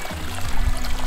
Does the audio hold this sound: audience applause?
no